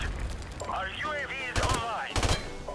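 Gunfire in a shooter video game, with rapid sharp shots clustered in two dense bursts beneath excited voices and chatter throughout.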